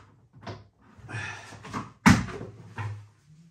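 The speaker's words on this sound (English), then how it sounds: "Open your door on your beer machine." The door of a Krups The Sub Compact beer machine is opened, with a few soft plastic clicks and rustles followed by one sharp, close clack of the door releasing, then some quieter handling.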